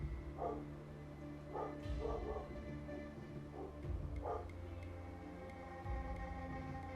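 A pet dog barks several times in a home while a PS5 game plays, short muffled woofs spaced irregularly at a moderate distance over a steady low game backdrop.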